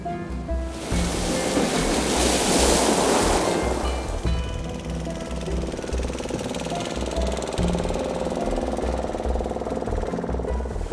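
Mediterranean sea waves roll in along the Hatay shore, a steady broad wash of surf that swells loudly near the start and settles into a continuous roar with low rumbling underneath, no voices present.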